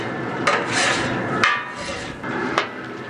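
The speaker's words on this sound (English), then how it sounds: "Go ahead and scrape this off." A metal scraper drags across a hot BBQ griddle insert to clear off cooked food residue, giving three rasping, scratchy strokes with a brief clatter at the start of each, close and fairly loud.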